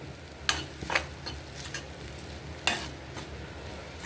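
Carrot rice stirred in a pan, a spoon scraping in a handful of quick strokes over a faint sizzle, close and fairly quiet, without any talking.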